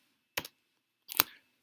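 Computer keyboard keys struck twice, two short, separate clicks about a second apart, close and crisp against silence.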